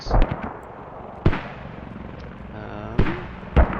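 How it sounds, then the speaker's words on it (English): Mortar rounds in a multiplayer military shooter land as four sharp, booming impacts spaced irregularly, loud against a low background of game ambience and faint voices. "Mortars sound good."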